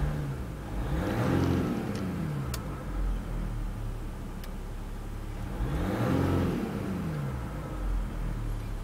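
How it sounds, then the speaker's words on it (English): A 2015 Jeep Grand Cherokee Limited with the Ecodiesel engine, windows down, revved twice from idle; each rev rises and falls smoothly over a steady diesel rumble, heard from close by. "give a little bit of gas, or accelerate the engine a little bit."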